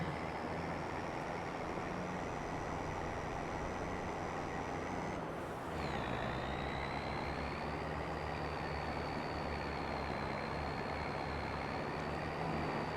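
A loaded truck drives in Farming Simulator 25, giving a steady low engine drone with a whine above it that dips sharply partway through as the engine note shifts, then carries on evenly.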